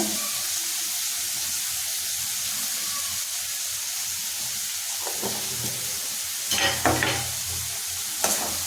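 Tomatoes sprinkled with salt sizzle while being stir-fried in a pan for bombil bhath, a steady hiss with sharper spoon scrapes and clinks toward the end.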